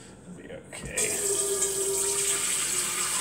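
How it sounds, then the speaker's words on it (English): Water starts running from a kitchen sink tap partway through, shifting into a steady, hissing flow that continues to the end, with some faint activity before it starts. "I'll just use water from the sink"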